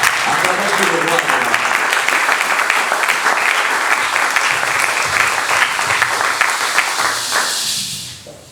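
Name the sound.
church congregation applauding and cheering for God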